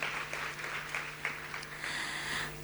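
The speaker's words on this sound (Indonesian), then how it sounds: "Kita berikan tepuk tangan sekali lagi untuk Miss Mary Riana." Applause from a women's leadership conference audience for Miss Mary Riana, fairly quiet and diffuse clapping that holds steady over a low, constant hum.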